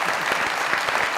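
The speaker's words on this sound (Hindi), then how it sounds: "तालियां।" Studio audience applause on a Pakistani comedy talk show, a brief, dense burst of many hands clapping loudly and evenly, with no voice over it.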